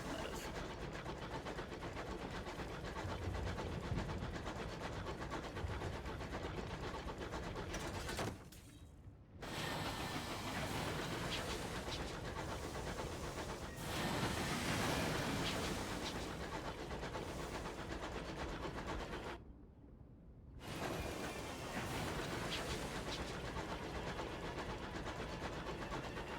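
In a video game, a train locomotive rumbles along in a continuous, faint mechanical roll with clanking textures, broken by two short silent gaps.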